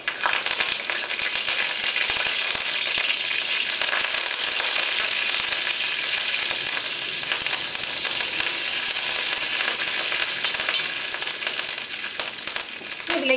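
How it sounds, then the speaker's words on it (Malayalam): Curry leaves frying in hot oil for a spicy pepper chicken fry, a steady, dense sizzle and crackle holding close and loud without a break for the whole stretch, with no talking. "ചൂടായ എണ്ണയിലേക്ക് നമുക്ക് ഏറ്റവും ആദ്യം കറിവേപ്പില ചേർക്കാം"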